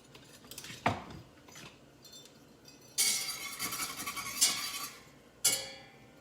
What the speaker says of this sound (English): We'll give it a stir.